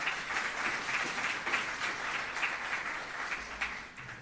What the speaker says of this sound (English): Please give a round of applause for our online participants.